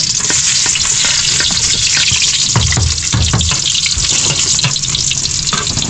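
Garlic sautés in a hot pan with a steady, close sizzle and occasional stirring scrapes, with water running from a tap in the background.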